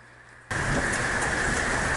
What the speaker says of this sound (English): so it's storming now.